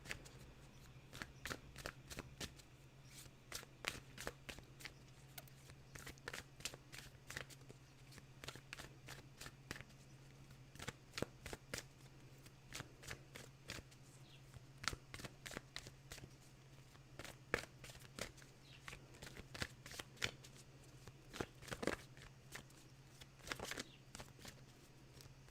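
Oracle cards being shuffled by hand, a steady run of crisp riffling snaps and soft slides repeating throughout, close and fairly quiet over a low steady hum, with no talking.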